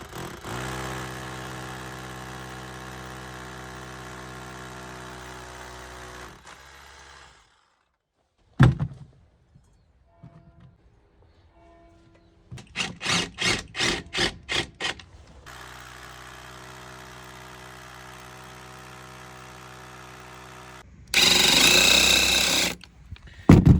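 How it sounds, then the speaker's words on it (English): A screwdriver drives screws into the back plate of an outside tap: a long steady whirr, a pause, then a run of short pulsed bursts and a final loud burst, with no voices. "I'm going to just screw this back plate too"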